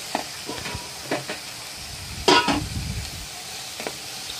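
Chopped onions frying in melted butter for a mushroom sandwich, with a soft steady sizzle and a few stirring scrapes and clinks of a spoon against the pan, heard close with no talking.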